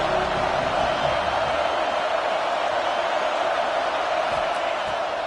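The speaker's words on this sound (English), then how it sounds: "This crowd ready to make its presence known." Football stadium crowd roaring steadily throughout, a dense, loud, unbroken wall of cheering noise with no individual voices standing out.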